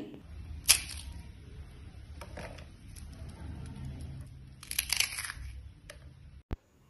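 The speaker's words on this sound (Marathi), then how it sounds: "तुम्हाला मी एक चकली तोडून दाखवते, म्हणजे तुम्हाला चकलीचा कुरकुरीतपणा कळेल" A crisp fried chakli made from semolina and rice flour snaps apart with two sharp crunchy cracks several seconds apart, close and fairly quiet, followed by a faint click, with no talk.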